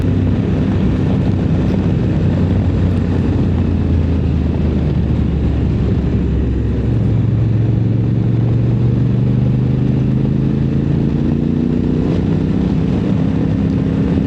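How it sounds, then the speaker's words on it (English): A 2024 Honda Africa Twin Adventure Sport DCT motorcycle in sport mode holds its gears longer, giving a steady, loud engine drone with a tone that slowly rises and shifts through the run. No voices are heard. "she's in sport mode. She's holding those gears a little longer."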